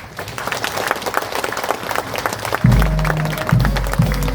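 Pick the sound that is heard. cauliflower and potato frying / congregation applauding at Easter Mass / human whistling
congregation applauding at Easter Mass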